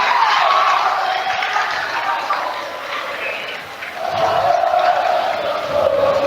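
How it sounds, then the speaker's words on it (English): The Linganore Lancers student crowd at a high school basketball game roars and chants in a sustained, fairly loud swell that dips midway and rises again, with shouts and squeaks in the gym. "There comes the Linganore Lancers crowd."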